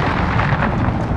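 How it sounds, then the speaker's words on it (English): A cruise missile explosion in Call of Duty: Modern Warfare hits as a loud, dense, sustained blast of rumbling noise filling the whole short moment. "Enemy cruise missile incoming!"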